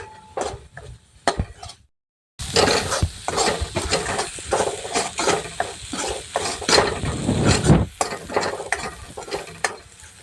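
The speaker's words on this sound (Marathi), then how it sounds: "मसाला सुद्धा छान असा दोन मिनटं भाजून घ्यायचं आहे तेलामध्ये" Masala spices roasting in oil in a pan for a Khandeshi-style colocasia leaf curry, a loud steady sizzle with repeated scraping stirs, briefly cut off near the start and then continuing.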